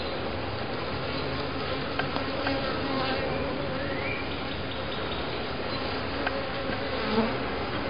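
Honeybees buzz in a dense, continuous drone around an open hive during an inspection. The hum stays steady and close throughout.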